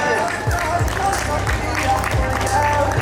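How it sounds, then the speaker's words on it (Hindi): An audience at a school annual function at a Jawahar Navodaya Vidyalaya breaks into loud applause. Dense, sustained clapping mixes with crowd noise and cheering and stays strong throughout, with chatter underneath. "जोरदार तालियां।"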